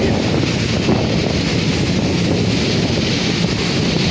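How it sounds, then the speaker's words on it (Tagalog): Strong typhoon wind roars steadily, buffeting the microphone with a loud, constant rushing noise throughout. "So ayan, lumalakas na po yung hangin"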